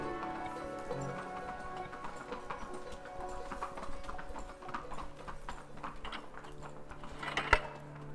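Horses being worked move with a steady, fairly close clip-clop of hooves against a busy background of clicking and rattling, with one sharp louder knock near the end.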